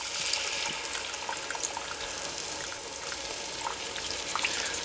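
Tomato juice hits a hot chili pot to lift the browned fond, giving a steady close hiss and sizzle with faint liquid splashing and bubbling, without voices.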